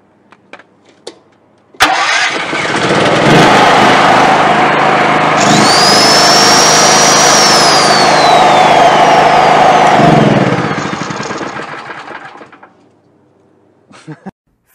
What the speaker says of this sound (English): Once your generator is started, you take your 3-pin plug, insert it into the socket, switch your circuit breaker on,